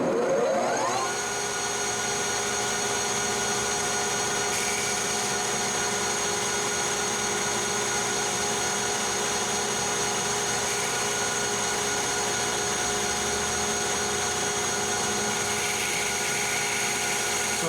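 A metal lathe turns heat-treated CrMo 4140 steel at higher RPM, a steady whining machine drone with sustained tonal hum and faint cutting noise throughout.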